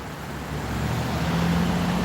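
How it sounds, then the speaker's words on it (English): Road traffic flowing past in a steady close rumble of passing cars and heavier vehicles, growing slightly louder, with no talking. "Traffic's still flowing pretty good."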